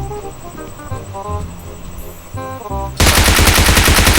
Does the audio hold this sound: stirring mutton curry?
no